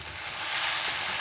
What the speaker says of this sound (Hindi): इसको भूनेंगे बड़ी अच्छे तरीके से जब तक जो घी है वो साइडों पे नहीं आ जाता